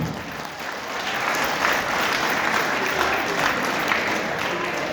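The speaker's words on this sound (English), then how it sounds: "A big round of applause for Sir." Sustained applause from an audience at a formal ceremony honouring a chief guest at IIT ISM Dhanbad, a dense steady clatter of many hands lasting throughout, loud and even with no talk over it.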